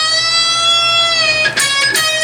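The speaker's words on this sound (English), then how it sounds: "half step, bend, hold, release, sounds like this." Electric guitar note bent up a half step, held with a steady sustained tone, then released back down, loud and close with a brief pick or string noise near the end and no voice.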